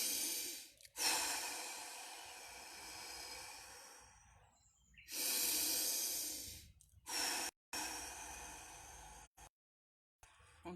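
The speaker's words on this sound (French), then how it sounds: "Vous faites 3 grandes respirations pour vous" Three deep, slow breaths during a morning stretching and breathing session, each a loud, close, airy rush of inhaling and exhaling, separated by short pauses and quiet gaps.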